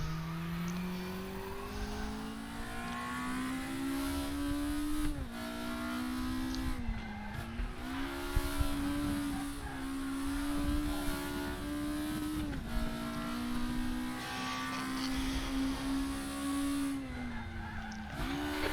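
A VW Scirocco race car laps the Brands Hatch GP circuit, its engine droning loud and close throughout, pitch rising and dipping with gear changes and corners.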